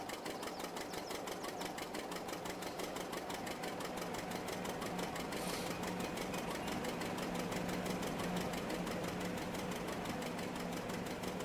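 A vintage John Deere 620 tractor engine runs steadily, a continuous rapid two-cylinder chugging beat that stays loud and close throughout with no talk.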